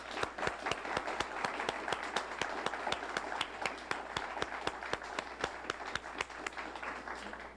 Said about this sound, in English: join me in a round of applause for all the recipients